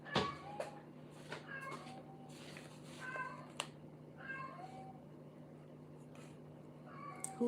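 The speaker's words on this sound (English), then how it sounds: "Did you guys hear the cat?" A cat meows repeatedly at home, short rising mews coming at irregular intervals over a low steady hum, moderately faint and alone.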